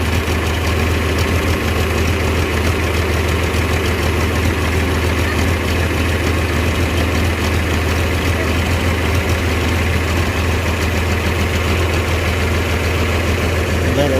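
A John Deere 4020 tractor engine idles steadily while warming up after a battery change, with the muffler refitted. The loud, continuous low rumble stays even and close throughout, with no talk over it.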